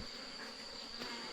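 Honey bees buzz steadily around a hive during orientation flights, a close, continuous droning hum with no voices.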